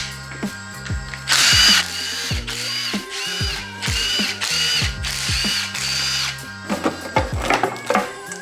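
A ratchet working on the coil packs of a BMW S54 engine in an E30, giving repeated bursts of fast clicking, with a power tool whirring in short runs between them. The sound is close and loud, and no one speaks.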